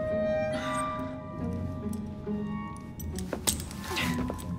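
Keys jangling as they are handed over in the video game Assassin's Creed Syndicate, a few metallic clinks over a low background hum.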